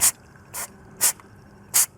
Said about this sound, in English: I'll spray that down a little bit with penetrating fluid.